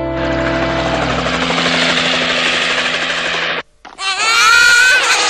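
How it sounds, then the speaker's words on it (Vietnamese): Cartoon helicopter flying, a loud steady whirring rotor drone that cuts out briefly before returning brighter and higher, with no talking. "trực thăng của mình đúng là vô địch khu này mà."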